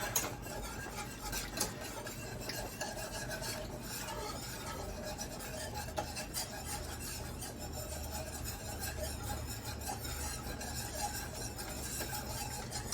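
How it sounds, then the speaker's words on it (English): A whisk clatters steadily against a pot while tomato paste is worked into red wine for a beef stew, a continuous scraping and clinking rhythm with occasional sharper metal taps, close and fairly quiet, with no talking. "I'm gonna kind of whisk in this tomato paste."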